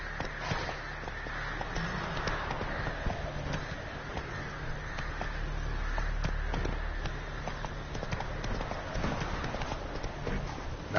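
Roach the horse gallops in The Witcher 3, hooves thudding in a fast, steady clip-clop rhythm over a low ambient game score, with a brief pick-up in pace midway.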